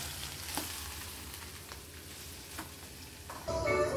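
Beans curry simmering in a pan crackles softly while a few stirring scrapes come through, followed by a louder clatter near the end as the lid is handled.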